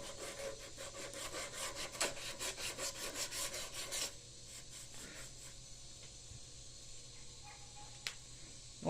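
A turned wooden pen blank is burnished with a handful of wood shavings on the lathe, giving a rapid rhythmic rasping rub for several seconds, then quieter faint scraping with the machine humming underneath.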